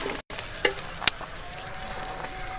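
Crushed ginger fries in hot coconut oil for a toddy-shop-style tripe curry. A steady, close sizzle carries on throughout, broken by a few light clinks of stirring.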